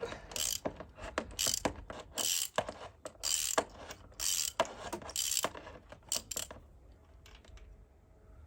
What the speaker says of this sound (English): my spark plug removal tool and remove them